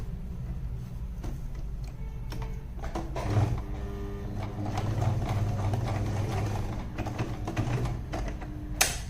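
A sewing machine stitches a shirt placket in a rapid, rhythmic mechanical whir with bursts of needle clatter, running close and steady with brief pauses and speed changes.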